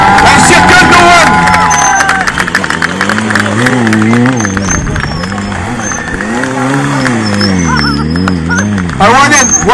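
A large crowd at a motorbike stunt show claps, cheers and whoops for a rider while a loud announcer talks over the noise, with bright whistles cutting through near the end.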